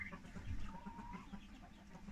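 Chickens cluck softly at a farm while out walking in their run, a low, steady murmur of clucks with a few brief calls rising above the background.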